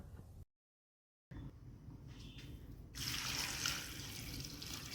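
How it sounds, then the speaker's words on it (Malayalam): Water poured into a pot of chopped jackfruit for cooking, a steady splashing pour that starts after a brief gap and grows louder and fuller, close and alone. "ഇനി ഈ ചക്ക വേവാനാവശ്യമായ വെള്ളവും കൂടി ഒഴിച്ചു കൊടുക്കാം"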